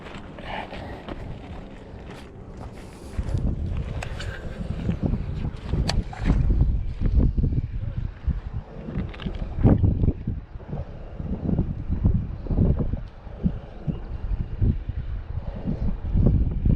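Hard wind buffets the microphone outdoors by the water, coming in loud, irregular gusts and rumbling blasts with brief lulls throughout.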